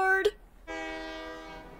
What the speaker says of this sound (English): This is a fancy train.